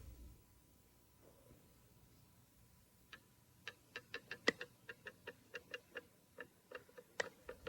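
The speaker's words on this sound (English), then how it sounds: "This model of Su Song's original clock exposes the extraordinary complexity of its design." A working model of Su Song's water-driven astronomical clock ticks, its sharp, evenly spaced clicks starting sparse and then settling into a steady, faint mechanical rhythm over quiet background rumble.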